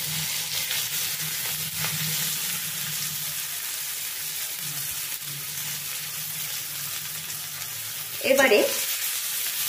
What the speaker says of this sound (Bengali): পেঁয়াজটাকে আমি ভালোভাবে ভাজবো